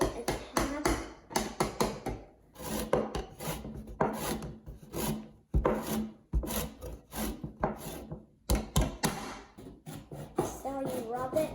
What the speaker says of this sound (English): This is how you zest the lemon. So first you rub it and then you give it a tap.